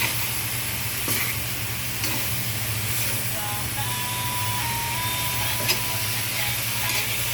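Vegetables with kamansi simmer in coconut milk for ginataang kamansi while a spoon stirs them, giving a steady sizzle with a few light scraping knocks and a constant low hum underneath.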